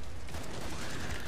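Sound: MP7 gunfire in video game Killing Floor 2

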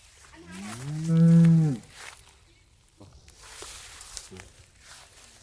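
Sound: cows mooing at a cattle market

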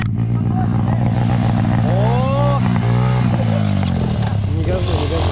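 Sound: BSE Z3 enduro motorcycle engine revving

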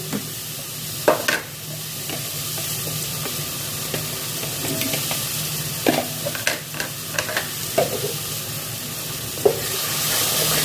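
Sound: stirring and frying spices with yogurt for prawn malai curry

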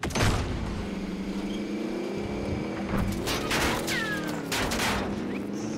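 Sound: gunfire in a video game

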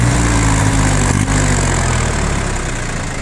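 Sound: Yanmar FX20D Japanese mini tractor engine running

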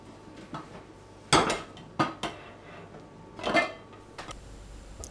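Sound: turning fish in a frying pan

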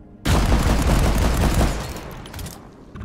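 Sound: Goofy modded shotgun firing in video game Deep Rock Galactic

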